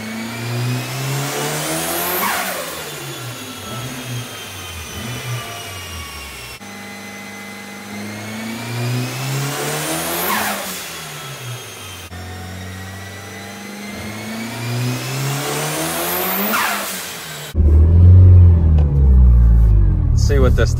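A Mitsubishi EVO 8 with its 4G63 engine revs up hard three times in a row, each rev climbing and falling back, followed by a short burst of louder, rougher noise at the end.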